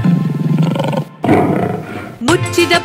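A cartoon lion roars in a Kannada children's rhyme: two loud growling roar bursts set against bright music and sung voices, with a short pause between them.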